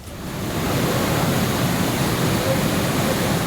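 Raging monsoon-flood waterfall at the Kedareshwar Mahadev temple, a loud, steady broadband roar of rushing water that holds constant throughout with no voices.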